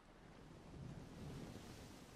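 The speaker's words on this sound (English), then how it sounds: "Rain on waves." Rain falling on ocean waves in the game Anno 1404 forms a steady, soft wash of broadband noise with a gentle swell and no voices.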